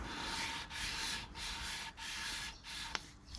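An engine valve is lapped against its seat in steady back-and-forth rubbing strokes, close and gritty, with brief pauses as the valve changes direction and a small tap near the end.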